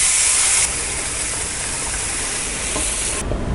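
Water boiling hard in a pan while making wheat kesari gives a steady, close bubbling hiss that holds evenly throughout, with no voices.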